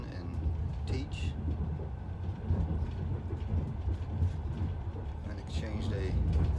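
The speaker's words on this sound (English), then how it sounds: "In exchange they put me on this nice train." Passenger train travelling through Siberia heard from inside a carriage with closed windows, a steady low rumble and rattle of wheels on track with faint clanks throughout.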